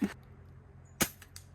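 Red Ryder lever-action BB gun firing outdoors: a sharp snap at the start and a second crisp pop about a second later, followed by faint quick ticks, with quiet surroundings in between.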